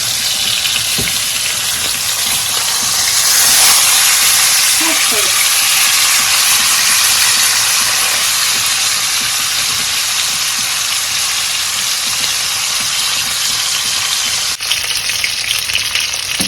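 Red snapper fries in a pan with a loud, continuous sizzle and hiss that swells slightly early on, ending with a brief knock.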